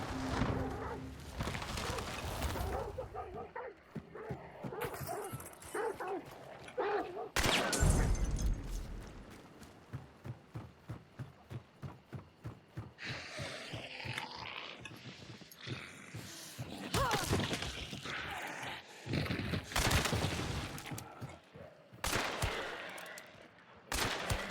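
Gunfire in a video game, fitted with a silencer, comes as long runs of rapid evenly spaced shots with a few louder single blasts and short pauses between bursts, mixed with other game noise.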